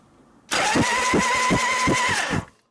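A rebuilt 1972 Harley-Davidson FLH shovelhead 98ci stroker engine cranks on the starter for about two seconds, loud and close, with a rhythmic chugging of compression pulses under a steady whine, never catching and firing.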